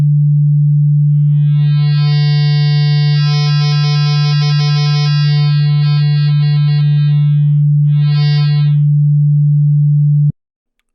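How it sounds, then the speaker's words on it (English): A low sine wave is fed through a Lumen Harmonic Sculptor waveshaper plugin, a loud steady hum that blooms into a bright, buzzing stack of harmonics that swell and warble, drop back, return briefly, then cut off abruptly. "let's hear it on a sine wave"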